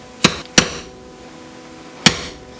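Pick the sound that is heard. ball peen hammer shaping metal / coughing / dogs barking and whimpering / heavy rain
ball peen hammer shaping metal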